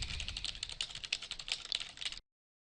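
Rapid typing on a computer keyboard as a paper title is entered, a dense run of close, crisp key clicks that stops abruptly, followed by silence.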